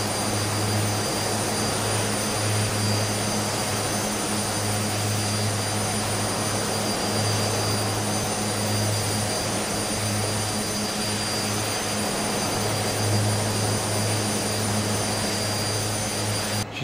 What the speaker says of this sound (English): let the revs build up before releasing on the brakes